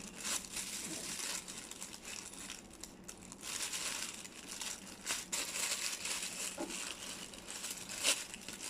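The packaging of a Celine cap is unboxed with continuous close crinkling and crumpling of paper and plastic, plus a few sharper rustles and crackles, with no talking.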